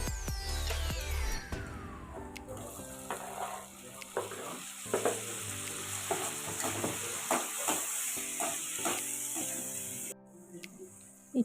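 Chopped tomatoes hit browned onions in a hot pan for a mushroom curry, a loud burst of sizzling that settles into steady frying with scraping stirs and occasional clinks.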